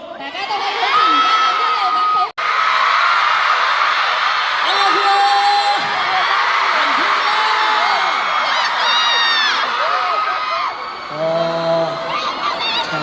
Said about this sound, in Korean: 퀴즈도 끝까지 지금처럼 계속 함성 마구마구 질러줄 수 있죠?